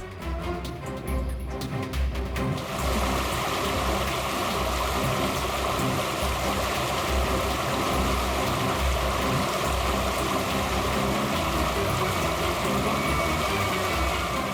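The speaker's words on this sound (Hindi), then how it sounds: "लो लो, आ गए वाटरफॉल पे" Steady, loud rushing water from a waterfall fills the scene as a continuous broadband roar, with some brief louder noise at the start.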